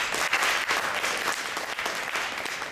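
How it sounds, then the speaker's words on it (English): Audience applause after introductions at a community talent show opening, a steady, dense wash of many hands clapping at moderate distance, sustained without pause. "So give them a big clap."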